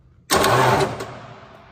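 An engine in poor condition bursts into loud, rattling life for about a second, then fades down quickly.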